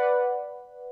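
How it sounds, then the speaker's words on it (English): A sustained analog synth tone from real oscillators with full-depth VCA pan modulation rings out alone, bright and harmonic, its level gently swelling and dipping over about a second. "these are real oscillators that produce the sound from scratch every time you press a key"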